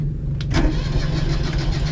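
A 1980 Mitsubishi Minica engine cranks and catches in a quick burst, then settles into a loud, rough, steady idle close by, with no talking.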